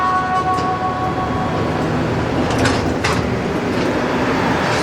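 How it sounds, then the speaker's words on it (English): Steady rumbling of an older-type Green Line subway train running along the line, with a constant low roar, a faint high whine, and brief hissing bursts near the end. "We're getting the old type of train on the Green Line."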